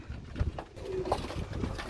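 Pigeons coo softly at a Gujrat loft keeping eight pairs of Persian pigeons, with a few low, rounded calls rising over quiet background murmur.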